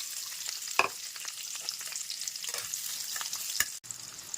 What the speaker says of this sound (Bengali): রিফাইন অয়েল গরম করে নিয়েছি আর এর মধ্যে প্রথমে দিয়ে দেবো গোটা গোটা রসুন পেঁয়াজ কুচি আর আদা এক টুকরো